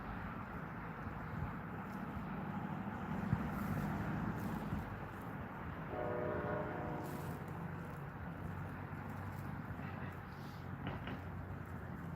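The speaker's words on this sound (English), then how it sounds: "that train must have been on a different track" Low distant rumble of a passing train with a brief horn blast midway, faint and far off under steady background noise.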